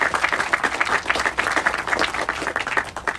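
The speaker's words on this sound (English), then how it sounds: "Can you get a round of applause, please?" An audience claps at a press conference announcing a new Con Edison renewable energy line between Astoria and Corona, producing a moderate round of individual claps in a quick, uneven rhythm that holds steady throughout.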